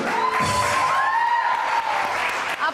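Studio audience on a Pakistani entertainment show applauds and whoops loudly, a dense continuous burst of clapping with voices rising over it.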